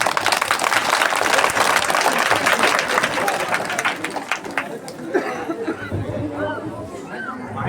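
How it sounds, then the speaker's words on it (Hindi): A village crowd applauding loudly at a politician's arrival, dense continuous clapping that fades after several seconds into chatter and calls. "ताली जोरदार"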